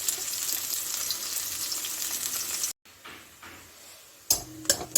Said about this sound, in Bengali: ওই যে পেঁয়াজটা এরকম ভাজা হয়েছে